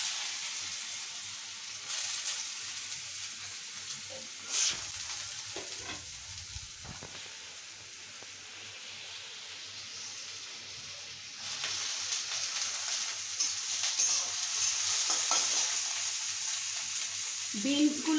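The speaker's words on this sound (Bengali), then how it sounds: "এর মধ্যে দিয়ে দেবো গাজর কুচিগুলো" Chopped carrots fry in oil tempered with cardamom and cloves, a soft continuous sizzle with a few stirring knocks, growing somewhat louder and brighter toward the end.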